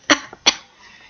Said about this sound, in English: I just needed to cough.